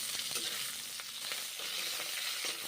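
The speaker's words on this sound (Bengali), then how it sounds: "পাঁচ মিনিট ভেজে নিলাম" Chicken and okra fry in a pan with a quiet, even hiss of oil and faint scrapes of stirring now and then, heard close with no talking.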